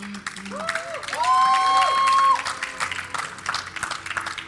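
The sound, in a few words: crowd cheering at League of Legends match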